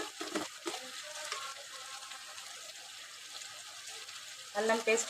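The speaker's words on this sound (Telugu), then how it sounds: "ఆయిల్లో కూరగాయలతో పాటు ఇవి కూడా మంచిగా ఫ్రై అవుతాయి." Vegetables, bitter gourd and potato, frying in oil with spices: a quiet, steady sizzling hiss heard close up, with a few soft clatters at the start and a louder stir near the end.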